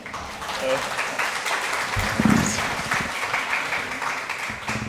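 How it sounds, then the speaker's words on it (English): An audience at an academic conference session on paranormal folklore applauds, clapping spread across the clip at moderate level, with a voice briefly speaking over it. "Please give him an applause."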